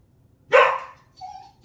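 A pet dog barks once, loud and close, at a smoke detector alarm indoors, followed by a short higher yelp or whine, with quiet surroundings and no talking.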